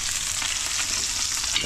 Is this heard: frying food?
yes